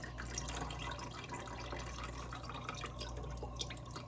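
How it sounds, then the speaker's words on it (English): Seasoning liquid drains off cooked collard greens as a faint, continuous trickle and patter of dripping water over a low background hum, quiet and with no talking. "Let it all drain off."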